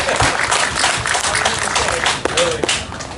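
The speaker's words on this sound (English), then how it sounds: "I don't think that you guys gave Ann a loud enough round of applause" An audience at a resort hotel's 102nd anniversary celebration claps in a steady round of applause, dense and close, with a voice speaking over it.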